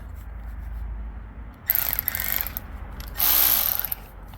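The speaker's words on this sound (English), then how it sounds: "you run it out with the electric ratchet" Electric ratchet working motor mount bolts on a 1999 Ford F250 6.8 V10, two short whirring bursts with mechanical clicking, close and fairly loud over a low background hum.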